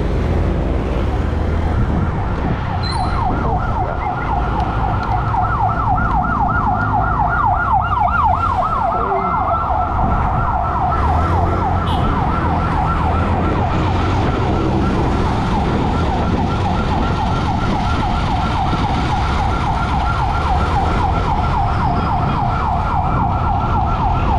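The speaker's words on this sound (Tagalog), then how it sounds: "dito yung mga ambulansya" Loud ambulance sirens wail continuously with a rapid warbling pattern, close by, over a rumble of traffic throughout.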